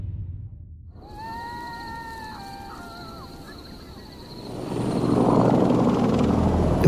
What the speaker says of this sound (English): Two helicopters are traveling towards Abad, Pakistan.